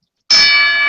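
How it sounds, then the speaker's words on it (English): A single bell strike rung to open a live hockey podcast show: a sudden bright, sustained ding that starts sharply and rings steadily, loud and close, with no talking. "Sorry, bell to start."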